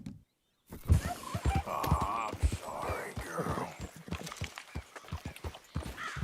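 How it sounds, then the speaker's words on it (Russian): Horses in a video game clop along with rhythmic hoofbeats and a few snorting, whinnying sounds, close and moderately loud after a short silent start. "Лошади не кормлены."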